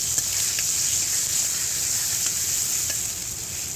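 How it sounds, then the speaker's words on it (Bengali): Spices frying with salt and turmeric in a pan for chana, a dense continuous sizzle with faint stirring scrapes, close and loud, steady for a few seconds with no talking. "দিয়ে এটা এখন লালটা করে ভাজবো।"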